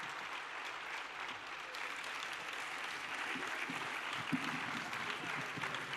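Steady audience clapping fills a hall at a children's Gita chanting quiz event, a continuous even patter of many hands, moderately loud, with a few louder claps near the end.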